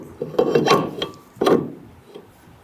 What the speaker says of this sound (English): We can go ahead and grab our brake rotor and we're going to slide that into place.